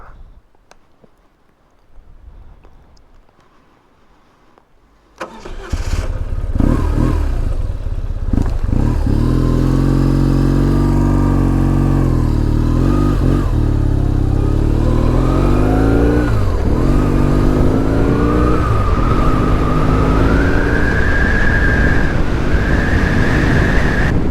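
A 2005 BMW R1100S Boxer Cup Replica motorcycle starts up after a few quiet seconds and rides along the Blue Ridge Parkway in the mountains, its boxer engine droning loud and steady, pitch rising and falling through throttle changes and gear shifts, with no talking.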